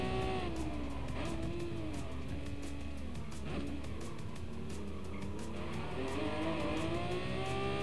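Ferrari race car in Gran Turismo Sport, engine droning steadily throughout with a rising and falling pitch, tires squealing now and then, loud and continuous with no one speaking.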